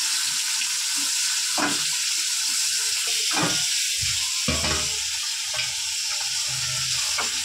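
Slices of pointed gourd (potol) fry in a pan with a steady hiss of sizzling oil, broken by several close scrapes and clatters of a spatula turning them, and no voices.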